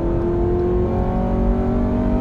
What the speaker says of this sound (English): Oh, the noise of the engine as well.